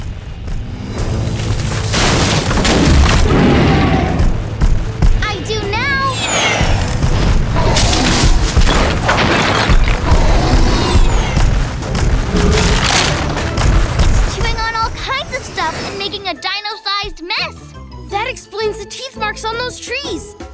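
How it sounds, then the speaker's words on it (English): Heavy booming thuds from a cartoon T-Rex stomping closer run under a loud, continuous music score, then a quieter stretch of excited animated dialogue near the end. "That sounds even closer! That's a T-Rex!"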